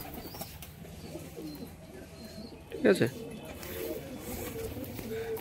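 Giribaz pigeons in a loft coo softly in the background, with a brief louder burst near the middle and someone speaking a couple of words over them.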